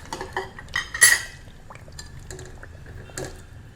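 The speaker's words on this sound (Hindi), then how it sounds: "अब इसमें हम डालने वाले हैं आलू साथ में" Potato pieces tipped into a pan of roasted masala for Hyderabadi-style bagare aloo baigan, giving close clattering metallic clinks with one loud burst early on and a smaller rattle near the end.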